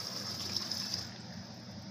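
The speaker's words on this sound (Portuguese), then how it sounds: "a pressão da água da rua aqui, ó" Water from the street supply runs steadily into a Consul CPB33AF water purifier dispenser, a constant close rushing flow with a faint high whine that drops away near the end.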